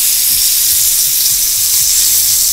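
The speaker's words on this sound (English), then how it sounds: "this is the noise that we want to hear. The sizzle, right?" Chicken breast searing in a hot pan, a loud continuous sizzle of frying with constant crackling hiss, close and alone.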